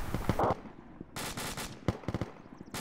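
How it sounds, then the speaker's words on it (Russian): A Kalashnikov rifle fires in the Arma 2 combat game, loud sharp bursts of automatic shots in several clustered volleys separated by short pauses, with no talking. "Не, про то, что калаш стрелял."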